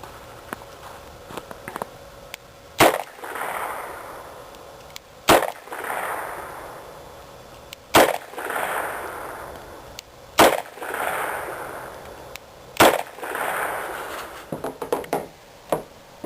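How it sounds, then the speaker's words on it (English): A Ruger SP101 revolver fires five sharp, loud shots at regular intervals of about two and a half seconds, first two .38 rounds, then three .357 rounds, each crack followed by a brief ringing decay outdoors. "Now I'm shooting the SP101. The first 2 are 38s, and the next 3 are 357s."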